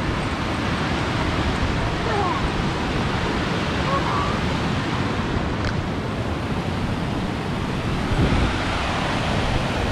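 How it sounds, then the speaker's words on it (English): A creek pouring down into a lake along a nature trail makes a steady, loud, unbroken rush of water that fills the whole stretch with no pauses. "This water flows into the lake."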